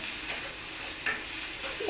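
Chillies frying in hot oil give a soft sizzle with a faint scrape of stirring, brief and fairly quiet, with no talking.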